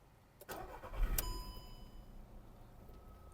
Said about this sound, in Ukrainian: запустимо двигунчик, послухаємо, як він працює